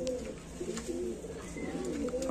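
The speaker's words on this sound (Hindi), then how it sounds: "हमारे उमर भाई ने जैसा बताया गोल्डन और सराय वालों में से एक कबूतर है," Rampuri pigeons, a pair bred from the Golden and Saray lines, coo in low, continuous rolling murmurs close by, with faint chirps above and no talking.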